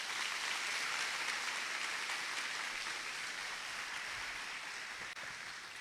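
Congregation applauding at a church sermon in Miguelópolis, a steady broadband wash of many hands clapping that holds throughout and tapers slightly toward the end, with no voices above it.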